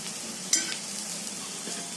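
Methi dhepla, a fenugreek flatbread, roasts in a pan with ghee or oil, giving a steady low sizzle throughout with a single brief click or tap early on.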